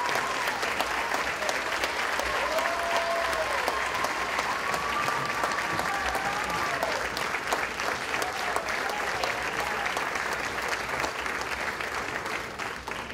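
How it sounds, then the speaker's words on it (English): Audience applause fills a 2017 high school all-sports banquet hall in Vineland, a dense, steady roar of many hands clapping that stays loud and even throughout before easing slightly at the end. "Let's give Mr. Gase York applause."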